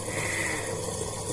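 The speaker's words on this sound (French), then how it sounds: "Désolée pour le bruit du lave-vaisselle." A dishwasher runs in a home kitchen during baking, giving a steady, even whir and low hum that stays constant with no talk over it.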